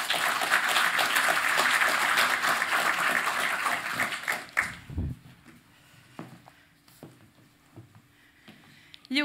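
Warm applause from a summit audience welcoming panelists, dense clapping for about four seconds that quickly fades out, followed by scattered handling noises and quiet room sounds.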